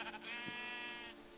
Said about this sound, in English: More sheep! Hello, sheepies. I'm after your wool.